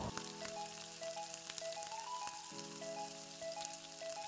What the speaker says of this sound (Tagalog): i-saute po natin ang ating bawang